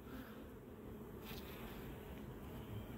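Honey bees hum steadily on a hive frame, a dense, close, continuous buzzing that stays even and unbroken throughout, with no voices over it.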